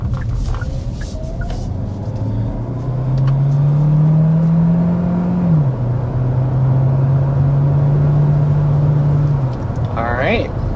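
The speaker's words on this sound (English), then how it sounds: "let's go ahead and get into the hard acceleration of this refreshed Tucson hybrid." A 2025 Hyundai Tucson Limited Hybrid accelerating hard to 60 mph: a steady engine and motor drone rises in pitch, dips at a shift, then climbs again, heard from inside the cabin for about ten seconds.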